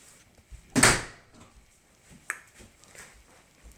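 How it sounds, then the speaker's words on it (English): A door swings shut indoors with one sharp, fairly loud knock, followed by quieter clicks and small room noises. "thank you for shutting the door"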